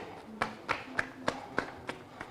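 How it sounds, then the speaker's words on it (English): A handful of slow, evenly spaced claps, about seven in a row, sound faint and fairly close, with short gaps between each one and no voices over them. "You can clap for yourself."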